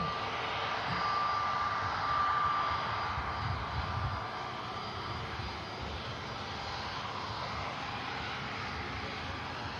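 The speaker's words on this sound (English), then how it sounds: "Beautiful aircraft. Egypt Air." Egypt Air airliner at Manchester Airport, its engines giving a steady broad roar that swells slightly early on and holds at a moderate distance, with no talking over it.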